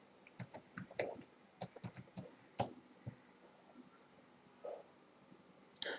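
Keystrokes from a computer keyboard as a search query is typed, an irregular run of close, crisp clicks in short bursts with pauses between, ending in a final cluster of taps.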